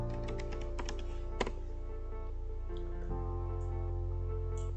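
A few soft, quick keystrokes on a computer keyboard as a network command is entered, faint and close over a steady electrical hum, with no voices.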